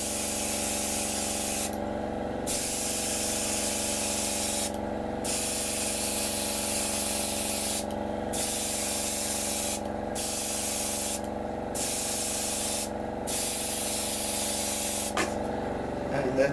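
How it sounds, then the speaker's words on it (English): Airbrush driven by a compressor spraying yellow paint onto a Revell F-15E Strike Eagle 1/48 model kit: a loud continuous hiss with a steady compressor hum underneath, broken by several short pauses in the spray. "Sorry for the sounds which the compressor is about to make."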